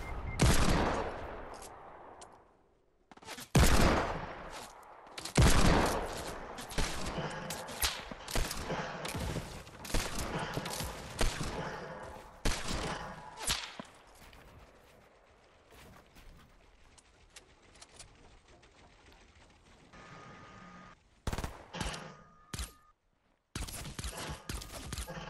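Gunfire in Fortnite comes in loud, sharp bursts and rapid strings of shots, separated by quieter pauses, with sparse talk in the background.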